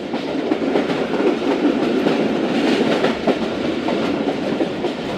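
The Karachi Express passenger train running fast on its rails, a loud, close, continuous rumble with rapid clickety-clack from the wheels.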